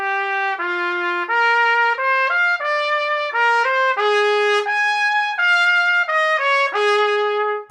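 A C trumpet fitted with a YS bell plays a solo melodic phrase of distinct, sustained notes, close and clear, with brief breaths between them and no voices.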